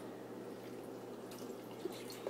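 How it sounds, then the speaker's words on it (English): Passion fruit juice pours into a slushy cup, a faint, steady trickle of liquid with a few soft drips near the end and no voices. "Pour in the passion fruit."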